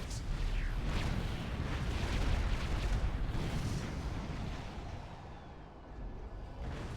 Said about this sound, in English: Like I said, those flak cannons are really powerful.